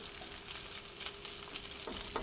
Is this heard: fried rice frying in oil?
yes